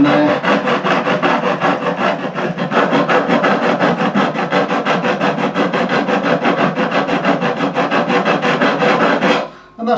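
Metal files rasping a five-degree bevel onto the fret ends of a 1957 Hofner President guitar during a refret, a close, fast, even back-and-forth scraping that runs steadily before stopping near the end.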